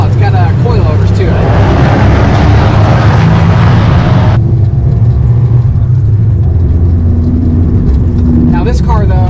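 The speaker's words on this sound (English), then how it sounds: "it still pulls, you can still hear the turbo, you can still hear the blow-off valve" Turbocharged Dodge Dart with coilovers, heard from inside as the engine pulls hard with a loud, steady drone; turbo whine and a blow-off valve release come through near and loud, with a voice talking over it.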